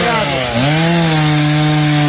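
A chainsaw cuts loudly and steadily through fallen trees that have brought down power poles along a roadside, with the engine pitch dropping briefly under load and then holding at a constant high drone close by.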